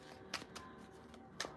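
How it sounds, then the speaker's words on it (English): Tarot cards being shuffled by hand at a table, faint soft riffling with two sharper slaps, close and quiet. "I'm sitting here shuffling and I forgot to put the cards back."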